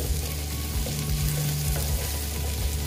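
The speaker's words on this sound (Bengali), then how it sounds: "পেঁয়াজটা আর একটু ভেজে নিচ্ছি" Onions frying in a pan with okra and egg, a dense continuous sizzle close up, steady and even with soft stirring movements underneath and no talking.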